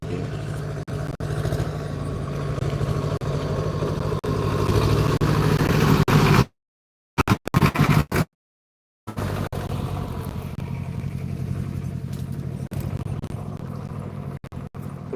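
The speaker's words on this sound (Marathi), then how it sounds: "पेरणी चालू आहे ट्रॅक्टर फिरायले तर" A steady, low tractor engine drone runs continuously nearby during sowing, with a brief cutout partway through before the rumbling resumes.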